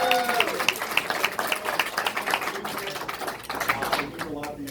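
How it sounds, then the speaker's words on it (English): A crowd at a presidential campaign rally in Oakland applauds the event organizers, brisk clapping with a few whoops, while a voice talks over it. "Let's give them a big round of applause"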